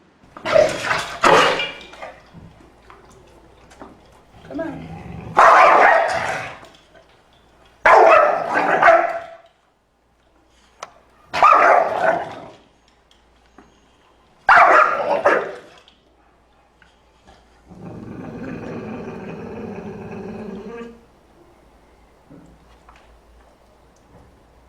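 A dog barks in five loud, separate bursts close by, followed by a lower, sustained whining sound; someone speaks briefly with it.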